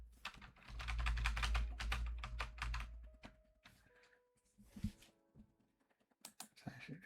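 Rapid, close clicking of typing on a computer keyboard, dense and steady for about three seconds and then thinning into sparse individual key taps amid faint room sounds.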